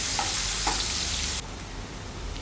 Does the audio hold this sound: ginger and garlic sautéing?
yes